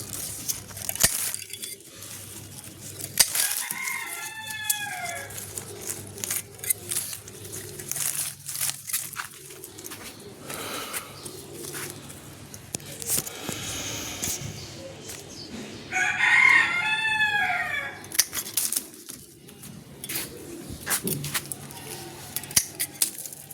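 Scissors snip lemons from a garden lemon tree in a series of small, quiet clicks and cuts spread throughout, while a rooster crows twice and hens cluck in the background.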